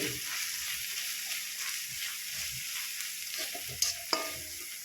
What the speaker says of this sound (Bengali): নুন ঝাল হলুদ দিয়ে খুব সুন্দর করে নেড়ে চেড়ে নিয়ে